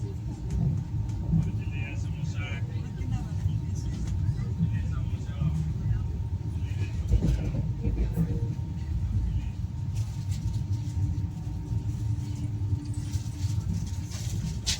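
Steady low rumble and rattle from inside the West Coast Superfast Express running from Chennai Central to Mangalore, a continuous broadband roar with a faint tone, people talking over it.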